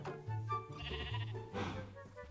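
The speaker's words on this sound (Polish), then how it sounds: "Muczki i owieczki" Sheep in a video game bleat in a few short, quiet, wavering calls, one after another against a soft background.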